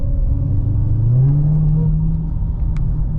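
A supercharged Dodge Hellcat engine rumbles and revs up steadily, a rising supercharger whine climbing over a deep idle, close by with no talk.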